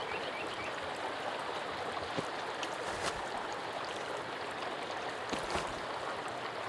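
Steady flowing stream in a forest setting within Sons of the Forest, a continuous soft rushing and trickling wash of water with faint irregular splashes, heard alone without talk.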